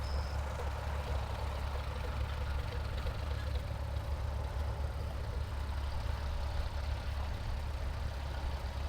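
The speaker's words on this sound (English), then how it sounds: "This is Alice Chalmers tractor." An Allis-Chalmers tractor engine runs steadily at a gas and steam engine show, a low, even idle rumble that holds for the whole stretch with no speech.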